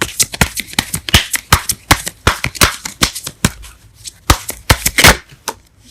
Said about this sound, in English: Let's get one more card for the Devil.